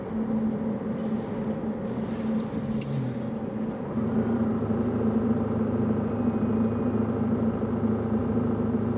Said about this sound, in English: what you hear is only the exhaust and sound.